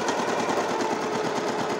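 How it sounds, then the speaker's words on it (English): A domestic sewing machine stitches a straight seam in a rapid, even mechanical patter, close and steady throughout, with no voices. "we are going to sew"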